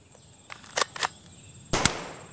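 A toy shotgun fires three sharp, close pops: two in quick succession, then a louder one after a short pause, over a quiet background.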